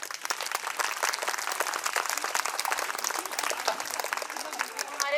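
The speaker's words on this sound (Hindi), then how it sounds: "जोर से तालियों के साथ" Parents applauding at a school annual day, rapid dense clapping from many hands with a voice heard through it, moderately loud and steady.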